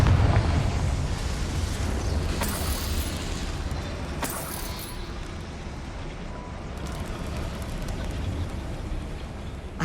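Confringo fire spell explosions in the Hogwarts Legacy video game: a dense, roaring blast texture that fills the whole stretch, with a few sharper bursts standing out over a continuous rumbling wash.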